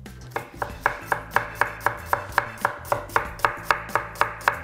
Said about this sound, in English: The most important thing about cutting onions is that you should have a sharp knife.